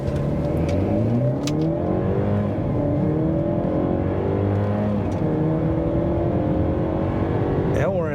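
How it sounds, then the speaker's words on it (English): A 2024 Mercedes-Benz GLE350 4Matic pulls away from a standstill, its engine climbing through rising, shifting tones that are heard from inside the cabin as a steady, moderately loud drone. "Let's see if I can stop right here and then accelerate from 0."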